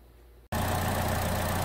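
A replacement 1.4 LUV engine in a 2015 Chevrolet Trax starts abruptly after near silence, then settles into a loud, steady, close-up running drone.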